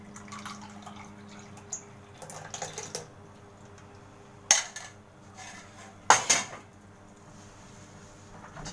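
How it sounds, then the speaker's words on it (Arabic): Molokhia being ladled from a cooking pot, with a few sharp metallic clinks of the ladle against the pot and soft dishware clatter over a quiet kitchen background, no talking. "استنوا بقى اما نغرف الملوخيه."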